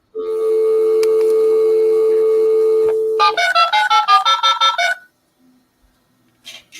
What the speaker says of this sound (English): the dial-up sound